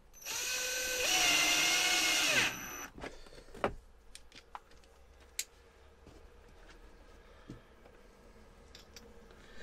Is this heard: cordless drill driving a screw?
yes